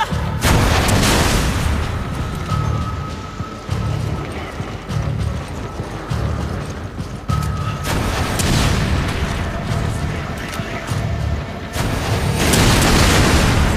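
Rocket launcher blasts in Resident Evil 5, Chapter 6-2, with heavy booming explosions over a dense, continuous, loud low rumble of combat noise, several big detonations spread through the stretch.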